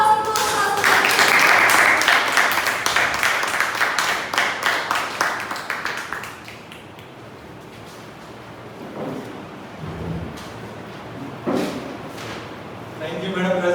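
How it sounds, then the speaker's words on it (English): Audience applause at a Toastmasters club meeting: loud, dense clapping for about six seconds that fades, followed by a quieter room with a few thumps and a voice near the end. "Let us give a big round of applause to Toastmaster Tapesh."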